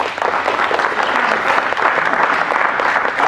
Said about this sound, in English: So please give yourself a round of applause for helping us.